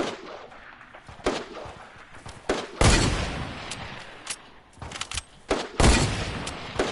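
Gunfire in a shooting video game: repeated sharp shots and heavier booming blasts in irregular bursts, loud and close, with rumbling tails between them.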